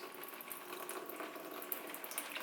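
Water poured straight into a semi-hydroponic plant container, a soft, steady splashing trickle heard close and faint, with no talk.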